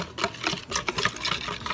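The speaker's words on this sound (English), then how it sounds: "So you just whisk it together" Rapid, steady rhythmic swishing of a whisk blending balsamic vinaigrette with oil and oregano in a bowl, close and continuous throughout.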